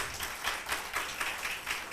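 A church congregation applauding for the King, with a dense, steady wash of many hands clapping together and pulsing slightly in waves, close and full, with no talk over it.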